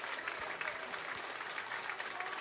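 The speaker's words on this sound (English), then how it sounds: "Rhythmic clapping by the Silver Knights fans." Silver Knights baseball fans clapping in rhythm in the stands, a faint, distant patter of hands in steady time.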